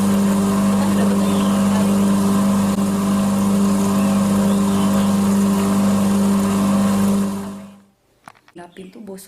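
An engine runs at a steady idle, a loud, constant droning hum that suddenly drops away near the end, leaving scattered knocks and voices.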